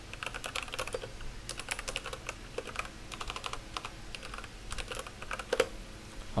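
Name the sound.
typing on a computer keyboard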